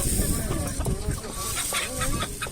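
Chicken sounds at a Sakarya poultry market, a few short clucks and calls from a bird of an unusual breed over steady market bustle and people talking nearby.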